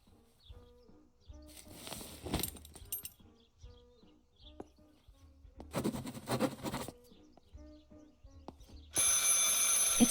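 Telephone ringing in the video game Martha is Dead: two bursts of electric bell ringing a few seconds apart over a quiet ambient bed with faint chirps, followed by a louder bright tone at the end.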